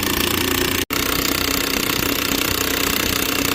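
A 1/2-inch impact wrench hammers on a jack during a Dodge Dakota oil change, giving a loud, continuous rattling buzz that cuts out for an instant near the start, then resumes.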